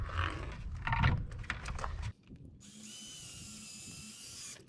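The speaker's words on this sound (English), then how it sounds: "ahead and drill in those other screws here" A power drill whirs in short bursts driving screws while installing a Rachio smart sprinkler controller box, then gives way to a steadier, quieter motor hum with a high whine.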